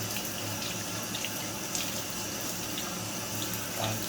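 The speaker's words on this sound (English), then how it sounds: "and then give it a quick rinse. Rinse it up." Food is rinsed under a running kitchen tap, the water streaming steadily into the sink with soft splashes as it hits the food, with no talking.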